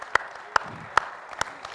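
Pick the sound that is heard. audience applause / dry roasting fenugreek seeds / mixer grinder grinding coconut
audience applause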